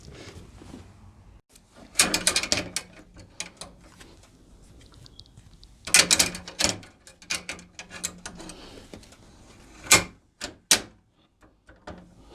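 An embroidery hoop being tightened for a patch on a Brother Baby Lock Alliance machine gives off three short clusters of sharp clicks and creaks, spaced a few seconds apart, close up, with quiet room tone in between.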